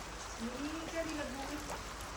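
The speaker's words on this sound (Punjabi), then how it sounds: "ਬੜਾ ਛਿੱਟੇ ਵਾਲਾ ਮੀਂਹ ਪੈਣ ਲੱਗ ਗਿਆ" Heavy rain with large drops falls steadily on a morning, a broad patter under a faint humming or murmuring voice.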